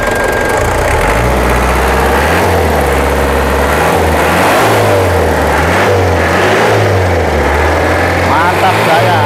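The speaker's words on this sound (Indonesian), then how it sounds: "kita coba, kita gas-gas lagi" Chevrolet Blazer diesel engine, custom-built, revved repeatedly while idling, loud close rumbling surges rising and falling in a steady rhythm.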